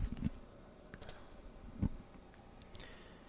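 Faint, sparse clicks of a computer keyboard as a shipper's name is typed into trucking office software, a few scattered keystrokes over quiet room tone.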